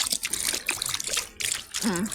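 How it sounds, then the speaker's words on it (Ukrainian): Water runs from a push-button public drinking fountain in Italy, a close, continuous splashing trickle with brief bursts and a short gap midway. "Нажимаємо, да? нажимаємо і водичка витікає"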